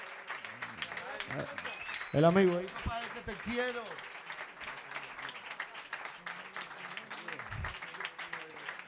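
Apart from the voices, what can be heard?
applause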